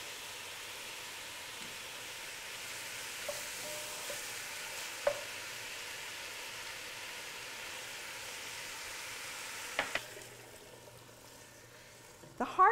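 Tomato paste being stirred into a pot with ginger for short ribs gives a soft, steady sizzle, with a few light utensil clinks against the pot near the end.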